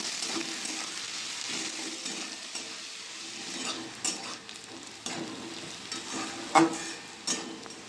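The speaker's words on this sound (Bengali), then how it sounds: "পেঁয়াজটা লাল লাল করে ভাজা হয়ে গেছে" Onions frying in oil until reddish for a Bengali chicken curry, a steady close sizzle with a stirring scrape and spatula clink around the midpoint and again near the end.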